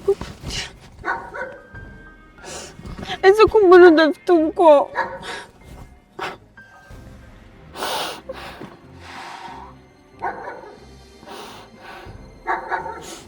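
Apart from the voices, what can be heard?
dogs barking at night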